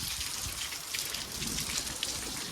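Steady rain patters down on a surface, a dense, even hiss with no voices.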